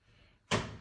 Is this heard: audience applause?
no